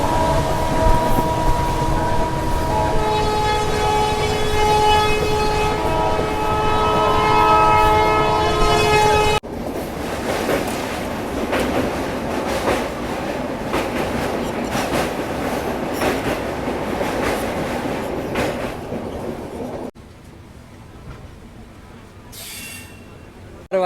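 A train runs toward Jamnagar railway station on the Rajkot line, its horn sounding long and loud over steady rolling rumble, then continuing as a running roar of wheels and carriages without the horn.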